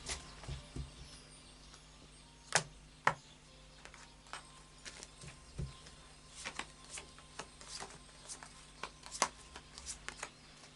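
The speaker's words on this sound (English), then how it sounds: "So another shuffle, another few shuffles." Oracle cards shuffled by hand, a run of soft, sparse riffles and taps near the microphone, quiet and irregular against a faint steady hum, with no talk.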